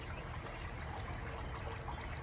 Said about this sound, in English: that water fountain is really loud